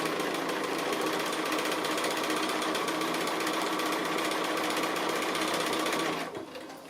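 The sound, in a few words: sewing machine free-motion echo quilting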